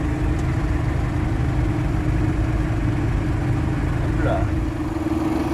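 A tractor with a garlic harvester hitched very close behind it idles steadily at a low, constant pitch through the whole stretch, while someone talks over it.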